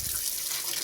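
Water runs from a faucet into a sink in a cabin after a leak repair, a steady hissing splash heard close and alone for under a second.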